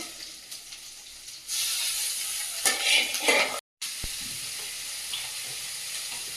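Salted, turmeric-coated prawns drop into a hot pan, bursting into a loud, steady sizzle with stirring scrapes, a brief break, then continuous close frying hiss.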